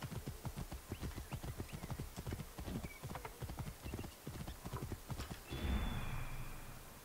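Hooves of a ridden horse clip-clop at a steady trot in the game Assassin's Creed Origins, a regular close rhythm of hard thuds, ending with a whinny and a swelling rush of movement.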